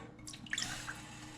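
Water poured into a pot on a stovetop burner to start a coffee syrup for an opera torte, a brief splashing and dripping pour heard close and alone.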